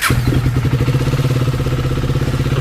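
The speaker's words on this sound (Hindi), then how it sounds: "तो कोई इंजन की आवाज़ चेक कराते हैं।" A KTM Duke 250 motorcycle engine runs close by with a steady, throbbing mechanical idle, loud and continuous and alone, showing even pulses for its short length.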